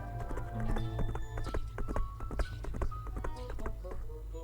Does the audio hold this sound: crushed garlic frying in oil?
no